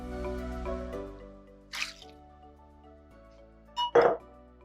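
Pasta cooking water splashing into a slow cooker in two short bursts, a brief wet pour and plop each time, over a quiet background of soft music.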